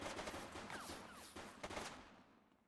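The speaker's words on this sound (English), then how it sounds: "He's shooting!" Enemy gunfire in a video game: a dense, continuous volley of rapid shots with scattered sharper bursts, loud and close, tapering off toward the end.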